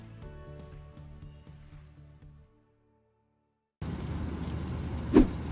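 A 16-year-old Honda Jazz with 100,000 miles on it gives a steady, close road rumble that starts abruptly after a short stretch of music and a silent gap, with a brief sharp knock near the end.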